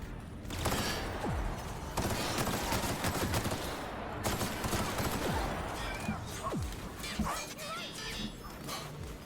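A gun blazing away in The Outer Worlds, rapid repeated gunshots and bursts layered with impacts throughout, loud and close, with a player's voice chattering over the firing.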